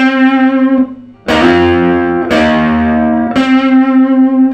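Loud, distorted electric guitar chords strummed in a few bursts, with a sliding pitch shift into one chord and sustained ringing between strums.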